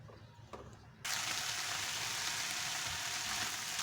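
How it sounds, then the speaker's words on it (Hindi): Boiled corn and vegetables hit a hot pan and burst into a loud, steady sizzle that starts abruptly after a quiet moment and continues evenly to the end. "अब इसको हम लोग 5 मिनट फ्राई करेंगे हल्का।"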